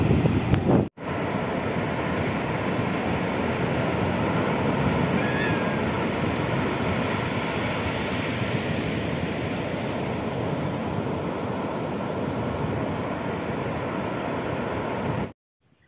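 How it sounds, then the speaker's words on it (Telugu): Rough open sea roars in a steady, loud broadband wash with constant wind buffeting the microphone, continuous for about fifteen seconds, with no talking. "భయంకరమైన సముద్రం."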